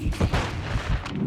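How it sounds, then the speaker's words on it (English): Grenade blasts and gunfire from the video game Modern Warfare 3 form a loud, dense run of booming bursts with several heavy thumps spread across a little over a second, and no speech heard. "Throwing grenade."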